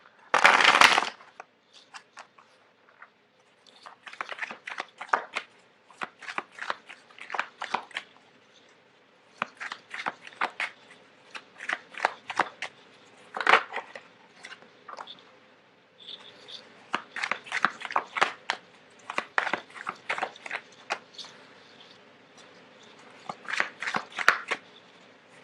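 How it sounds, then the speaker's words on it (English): Tarot cards shuffled on a hard surface laid over a tablecloth: a loud opening riffle, then many bursts of crisp card flicks and slaps in irregular clusters, close and clear, with no talking. "it's really difficult to shuffle on top of this tablecloth. So I have to put something hard here so I can shuffle on top of it."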